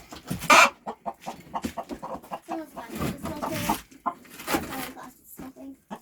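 Hens cluck and squawk in short bursts close by, with people talking intermittently among them.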